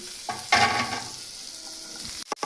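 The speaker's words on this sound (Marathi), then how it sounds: "सगळं साहित्य असं छानपैकी परतून घ्यायचं आहे।" Cooked carrots and green beans sauté with ginger and garlic in a hot pan, a steady sizzle with stirring scrapes that swell early, then end in a few sharp utensil knocks.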